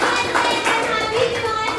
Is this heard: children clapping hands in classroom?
yes